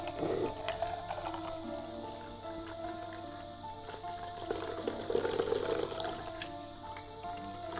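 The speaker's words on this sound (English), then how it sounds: "Strain in the glass." A calamansi cocktail is strained from the shaker into a glass, giving a soft, quiet trickle and splash of pouring liquid with faint clinks over background music.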